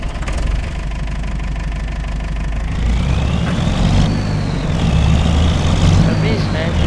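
A Mercedes-Benz forestry truck's engine in a video game idles with a steady low diesel rumble and knock, loud and close, swelling slightly midway with faint rising whine.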